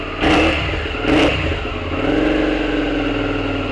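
A Suzuki SV650 motorcycle with a modified exhaust blips its engine twice in quick sharp revs, then settles into a loud, close, lumpy idle rumble.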